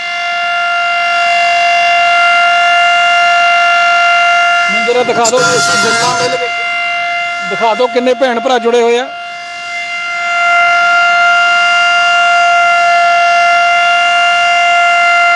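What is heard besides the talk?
civil defense blackout siren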